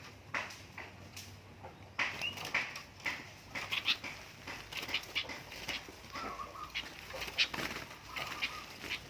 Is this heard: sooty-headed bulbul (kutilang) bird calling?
yes